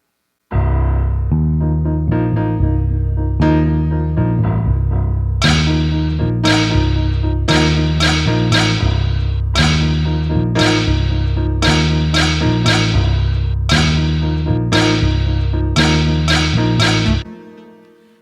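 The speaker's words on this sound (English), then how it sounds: "now we have the layer of the pots and pans and we have the layer of the bass line" Clanking metallic percussion like pots and pans hit in a busy rhythmic pattern over a deep, steady bass line, loud and continuous, ending abruptly.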